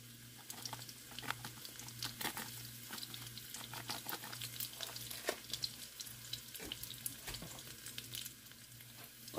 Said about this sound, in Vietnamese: Thả tỏi vào, chờ cho tỏi nó nóng.